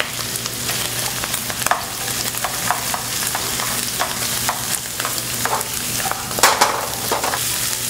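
Onion shreds stir-frying with pork belly strips in a hot wok for Taiwanese fried rice noodles, a steady loud sizzle broken by regular spatula scrapes and tosses, close up with no talking.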